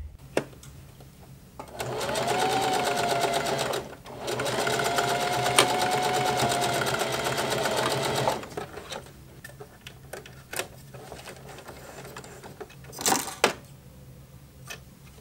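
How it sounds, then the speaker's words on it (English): A heavy-duty sewing machine stitches through a beach towel in two fast, whirring runs of a few seconds each, close and fairly loud, followed by scattered clicks and handling taps as the fabric is adjusted. "you would be able to sew this towel with pretty much any sewing machine"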